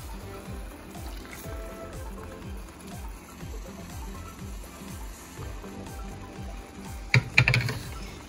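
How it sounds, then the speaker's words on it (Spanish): Water trickles into a blender to rinse it, a steady filling pour under a rhythmic mechanical background pulse, ending with a brief louder clatter. "Ponerle poquita agüita para que no se nos desperdicie."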